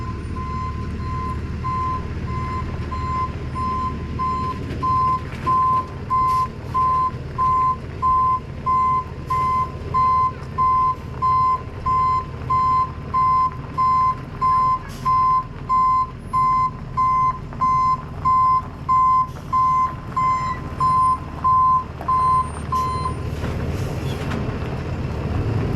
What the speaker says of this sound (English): Gotta get the truck in here